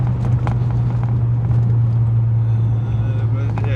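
A 2004 Renault Megane RenaultSport 225 with a pod filter on the intake drones steadily and loudly from engine and intake at a constant pitch, heard from inside the car while cruising.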